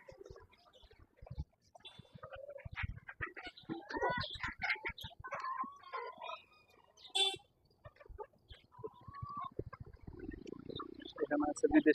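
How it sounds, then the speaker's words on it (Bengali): Chickens, including exotic-breed hens, cluck and call at a pigeon and poultry farm in an eco-resort park. The calls come in scattered bursts close by, mixed with other birds and people talking. "এখানে আছে বিদেশি মুরগি"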